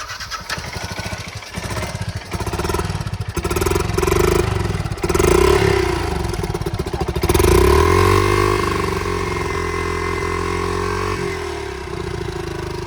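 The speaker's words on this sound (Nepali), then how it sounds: "बाइक चाहिँ बिचबिचमा यसरी रोकिरहन्छ" A motorcycle on a steep hill village road cranks and catches, its engine stuttering and clattering before settling into a loud, close, rising rev that holds a steady drone.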